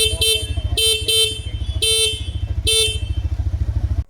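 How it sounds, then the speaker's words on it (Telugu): Close, loud honks from the single horn of a 2026 Orbitor electric scooter: four short blasts, one a quick double toot, over a steady low pulsing hum. "సింగిల్ హార్న్ అనేది సరే లౌడ్గా ఉంది"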